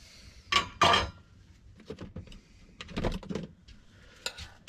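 Metal pots and cups clink and clatter close by in irregular bursts, with softer scraping and tapping between, as coffee is prepared without talking.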